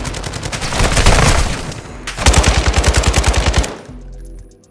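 Machine gun fire in the video game Warzone 2 DMZ: two long, loud, rapid bursts of automatic shots separated by a short gap, ending abruptly.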